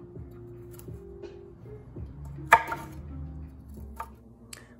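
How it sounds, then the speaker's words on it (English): Knife cutting broccoli into florets on a board, a series of quiet, irregular chops and soft thuds with one sharper crunch midway, close and alone without talk. "I like to cut my broccoli into florets."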